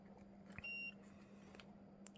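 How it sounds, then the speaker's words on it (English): A radio-controlled model's ESC on a 1/14 scale steel-plated CAT 973K gives one short, clear electronic beep, faint and alone over a low steady hum. "We heard a beep."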